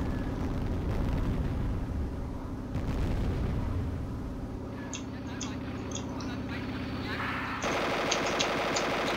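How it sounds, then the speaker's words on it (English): Rumbling airstrike explosions and chattering gunfire in Platoon, a Duke Nukem 3D total conversion game, a steady loud roar with repeated blasts and bursts, joined later by sharp high pinging impacts. "I remember as soon as we get in here, some weird airstrike is called on"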